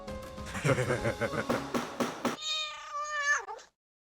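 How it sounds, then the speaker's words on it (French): A cat meowing indoors in a house, with a series of rhythmic, loud, close, wailing meows followed by one long, drawn-out caterwauling meow that cuts off abruptly. "Vedika, je pense que le chat est encore entré"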